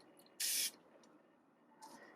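A can of spray adhesive fires a short, loud hissing burst onto a sheet of vellum, followed by a quieter second spurt near the end, with no talking.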